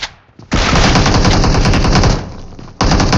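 Automatic gunfire in the mobile battle royale game BGMI, loud and close: a sustained rapid burst of about one and a half seconds, then a short pause and another burst, with no voice over it.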